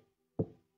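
A single firm knock on a door, likely a dull wooden thud, sounding once close up in an otherwise quiet moment with no talking.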